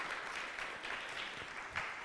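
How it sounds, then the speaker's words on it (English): An audience applauds the staff, with steady, dense clapping throughout and one brief louder accent near the end. "let's give them some applause"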